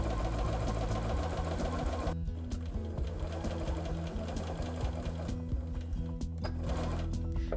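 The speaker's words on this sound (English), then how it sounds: "I'm just going to stitch right along the edge of the stitch enhancer" A sewing machine runs steadily, stitching along the edge of a stitch enhancer on a pieced Christmas ornament, its rapid mechanical chatter close and continuous throughout with no talk.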